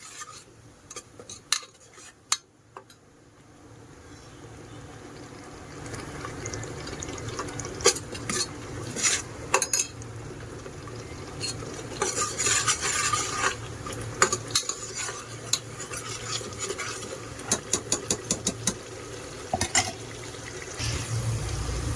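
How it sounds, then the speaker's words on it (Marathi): Chawli masala with a pinch of asafoetida roasting in oil while being stirred, with repeated scrapes and clinks of a spoon against the pan over a low sizzle, busier and louder after the first few seconds. "आता हे सगळं मिक्स करून घेऊया. चांगलं तेल सुटेपर्यंत भाजून घेऊया."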